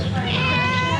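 A cat meows in a continuous, steady tone, close and fairly loud, with a low background rumble underneath, heard near a backpack that carries cat food.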